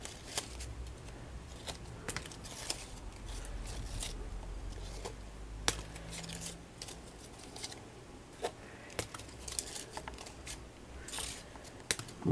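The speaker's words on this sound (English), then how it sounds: "I'm just going to cut my flowers ready." Scissors cut paper flowers for a mixed media craft project, giving a run of quiet, close snips and paper rustles scattered across the stretch, with no talking.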